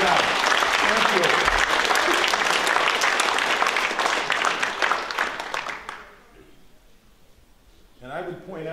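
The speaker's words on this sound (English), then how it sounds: "Let's give a round of applause for our participants who did a hell of a job." Audience at a public talk on democracy breaks into dense, loud applause lasting about six seconds, then the clapping thins and fades before a voice resumes speaking near the end.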